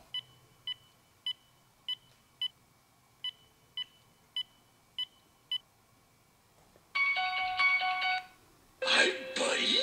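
Phone keypad dialing beeps sound as a string of about ten short, evenly spaced tones while a number is entered, followed by louder ringing and tone bursts from the phone, with no voices over them.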